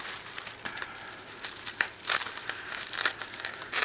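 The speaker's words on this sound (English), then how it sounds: "I think I'm going to need my scissors for this one." A mailed package being cut open with scissors and unwrapped by hand, with dense loud crinkling and crumpling of plastic or paper wrapping and occasional tearing, close up and continuous, without talking.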